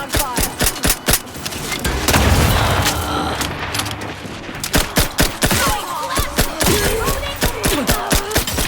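Heavy sustained gunfire in The Outer Worlds 2, with dense rapid bursts of loud, sharp shots and booming impacts that pause briefly mid-clip before resuming in quick rhythmic volleys, and a voice speaking between them.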